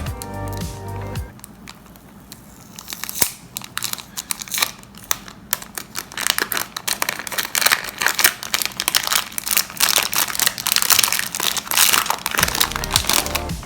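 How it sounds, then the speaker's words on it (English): Plastic wrap crinkles and tears as it is peeled off a new YJ MINI 4x4 puzzle cube, loud close crackling bursts in an uneven rhythm that keep going to the end, with no voices. "So let's just take the plastic off."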